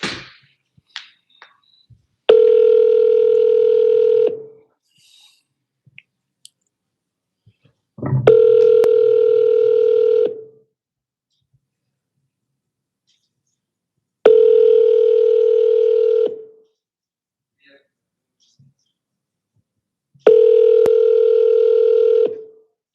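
An outgoing phone call to a for-sale-by-owner seller: four evenly spaced ringback tones, each about two seconds of steady buzzing hum, separated by silence, with a few faint clicks of keypad dialing at the start and no talking.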